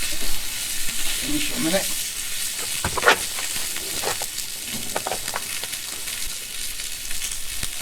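Sausages fry on a Trangia Mini camp stove, a steady close sizzle with scraping stirs and utensil clicks through it, and a voice briefly speaks over it.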